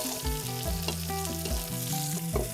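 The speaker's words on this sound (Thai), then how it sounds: "คั่วน้ำมันเฉยๆนี่แหละ ก็เหมือนจะทอดแต่จะใส่น้ำมันน้อย" Mole crickets pan-roasting in a small amount of oil, giving a steady close sizzle with soft stirring scrapes, while tonal music plays over it throughout.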